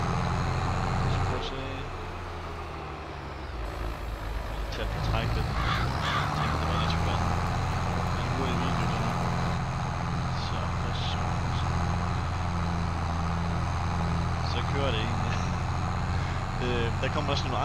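Case IH 1455XL tractor engine in Farming Simulator 22, a steady low droning rumble running throughout, with someone talking over it.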